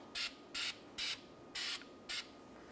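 Anti-seize sprayed onto rear brake parts of a 2014-2019 Kia Soul, five short, sharp aerosol bursts hissing at an even pace with quiet gaps between.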